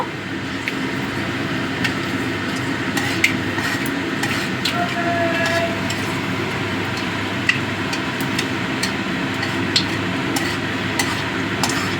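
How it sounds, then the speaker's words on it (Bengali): Steady sizzling hiss of panch phoron spices frying in oil with scattered small pops and crackles, continuous and close, with no talking. "ফোড়নটাকে একটু ভেজে নেব"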